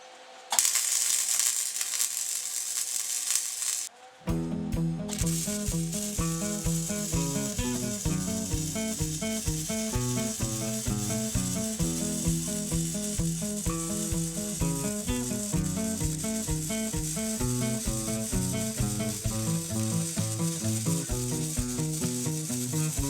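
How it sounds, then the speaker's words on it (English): A welder lays a bead down the seams of a homemade tractor cab while running low on power, giving a close, continuous crackling sizzle over a pulsing mechanical buzz after a brief pause near the start, with no talking. "Welder's running out of juice, I can tell."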